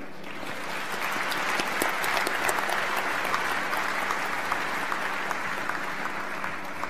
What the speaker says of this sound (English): a round of applause to the Lowry and the staff for hosting us so admirably